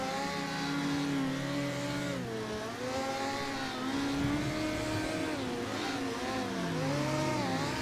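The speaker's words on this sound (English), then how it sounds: "how hard is it to do a burnout in the rain?" A car engine revs hard and steadily through a burnout on a wet track in the SR3 RSX Cup sim racing game at Donington Park in the rain. The engine note rises and falls in continuous, loud wavering sweeps with no talk.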